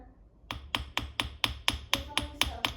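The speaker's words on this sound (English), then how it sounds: "So I'm hammering it flat." Silver earring hoops are hammered flat with about ten sharp, evenly spaced metal strikes, each one crisp, close and loud, with no talk.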